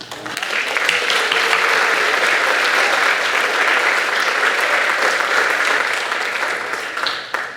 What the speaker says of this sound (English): please give a big round of applause for Mrs. Orris.